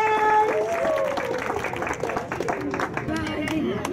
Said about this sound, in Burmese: နောက်ထပ်လက်ခုပ်တန်းတီးပေးတော့